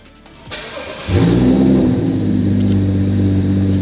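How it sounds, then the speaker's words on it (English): A starter whirs briefly, then a BMW engine fires up with a loud surge and settles into a deep, steady rumbling idle nearby. "now we're gonna turn on the car"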